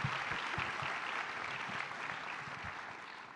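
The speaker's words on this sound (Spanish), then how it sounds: "otro aplauso para que Mati arranque" A crowd applauds steadily, a dense wash of many hands clapping that holds throughout and tapers slightly at the end.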